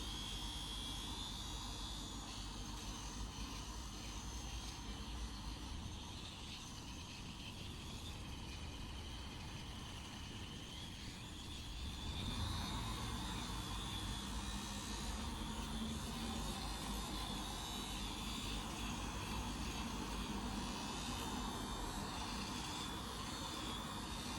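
A steady electric buzz from a small facial shaver, close and continuous, with a faint whine riding over the motor hum and no talking.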